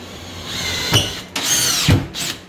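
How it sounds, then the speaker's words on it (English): A power drill drives screws into wall studs while kitchen cabinets are being installed, heard as a few short, close whirring bursts with brief gaps between them. "shoot some screws into the studs up here by the top"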